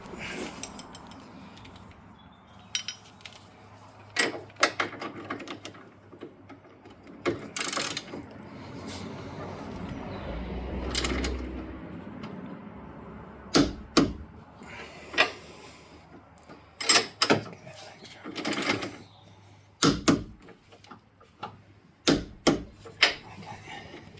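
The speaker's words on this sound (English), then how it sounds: "So back to the small torque wrench." A small torque wrench ratchets as it tightens a part on a Model 3P front suspension during a damper spring swap, making clusters of crisp clicks spaced between quieter mechanical handling noises.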